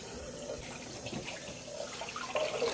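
Tap water runs steadily into a sink while fresh chicken is washed, a soft continuous splashing stream with faint handling noises.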